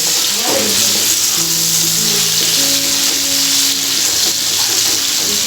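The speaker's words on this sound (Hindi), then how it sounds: "ये टमाटर हैं उनको डालूंगा और उसको अच्छी तरह से भून लूँगा।" Tomatoes fry loudly with masala in a pan for a liver curry, a dense, constant hiss of sizzling close up that runs the whole time, with no voices.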